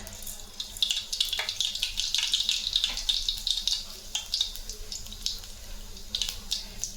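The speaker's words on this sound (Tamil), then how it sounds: "கடுகு பொரியுது" Mustard seeds spluttering and crackling in hot oil in a kadai, a steady dense crackle of small pops sustained throughout, fairly close and moderately loud with no voices.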